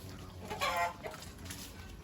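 Chickens cluck at a rural fish farm by a catfish pond, with one loud, close burst of clucking partway through over steady outdoor background noise.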